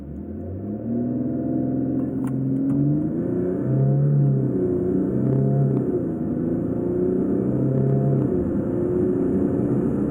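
A Jaguar F-Pace S SUV pulls hard through an acceleration test, its engine drone rising and dropping through gear changes. The steady, loud rumble is heard from inside the cabin, and no one speaks.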